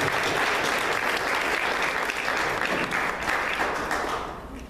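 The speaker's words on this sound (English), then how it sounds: "Let's give her a big round of applause." Loud, dense applause from a large audience at an AIDS candlelight vigil in Columbus, Georgia, steady clapping that fades slightly toward the end.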